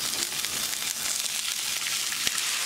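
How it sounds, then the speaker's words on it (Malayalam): Washed rice fries in oil in a pan with a steady, dense sizzle that continues evenly throughout, close and moderately loud, with no talking. "അരി നന്നായിട്ട് വിട്ട് വരുന്ന വരെ വറുത്തെടുക്കാം."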